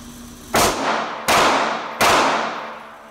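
Sig P365 pistol, with three sharp, loud gunshots evenly spaced about 0.7 seconds apart, each followed by a brief decaying echo.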